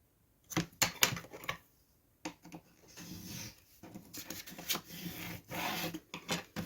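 Paper is folded and creased by hand to make an envelope, giving close, quiet rustles, rubbing scrapes and brief crinkles in irregular bursts separated by short pauses, with no talking.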